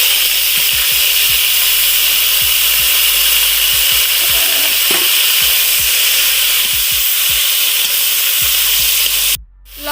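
Seeds dropped into hot oil for a sour spinach curry fry with a loud, steady sizzle, broken by light scattered clicks, before cutting off abruptly near the end.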